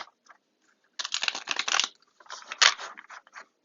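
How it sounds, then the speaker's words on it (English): Tarot cards are shuffled in a few quick riffling bursts, close and crisp, with brief pauses between them and no talking. "Go ahead and shuffle the cards."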